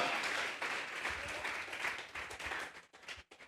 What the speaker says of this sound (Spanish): Vamos a regalarle ofrenda de palmas.